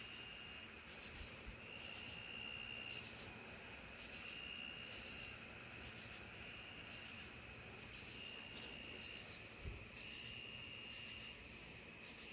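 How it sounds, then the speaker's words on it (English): Steady, unbroken trilling of a tree cricket at night, a continuous high insect drone that holds level throughout with faint background hiss and no talking. "The tree cricket's definitely up that way."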